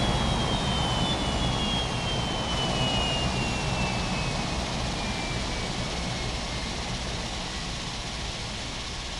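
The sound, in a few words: jet airliner engines at airport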